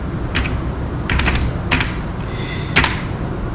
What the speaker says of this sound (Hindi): गूगल क्रोम में जाते हैं और गूगल क्रोम में आपने टाइप करना है डॉग हब